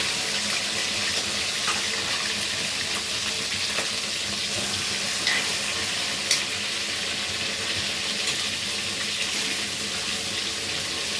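Steady, close sizzling of shrimp coated in turmeric and salt frying in hot oil, a continuous crackling hiss with occasional faint clinks, no voices.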